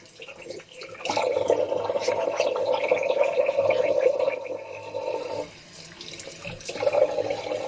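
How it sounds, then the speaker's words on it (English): Close water splashing at a sink as a face is wetted to prep a beard for a budget wet shave, a steady run of splashes and trickles with a brief lull before resuming. "I'll just put on some water on my face to prep my beard."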